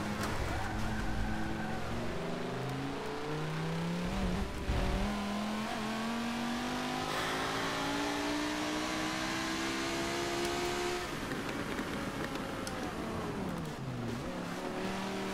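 Race car engine in Forza 7 revving hard through the gears on the Spa endurance circuit, a loud continuous whine rising in pitch with brief dips at shifts and a tire squeal near the end, no voices.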